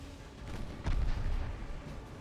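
A battleship's rear gun turrets fire in the naval warfare game Ultimate Admiral Dreadnoughts. It comes through as a deep, muffled boom swelling out of a steady low rumble of game noise, with no talk.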